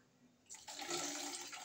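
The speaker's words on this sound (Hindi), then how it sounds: "ये तो अभी इसमें इमली का पानी डाल लेना" Tamarind water is poured into a pot of rasam, a short gushing splash that starts abruptly and runs steadily, close and fairly loud.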